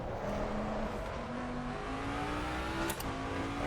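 A Mustang GT3 race car engine in Assetto Corsa Competizione drones steadily up through the gears, each shift dropping the pitch before it climbs again, with a short higher whine near the end.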